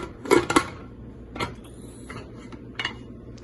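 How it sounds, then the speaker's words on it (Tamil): A pressure cooker lid being closed over a pot of kovakkai, heard as a few sharp metallic clanks and scrapes, a loud cluster at first and then lighter clicks, close by in a quiet room. "சோ குக்கரை மூடி"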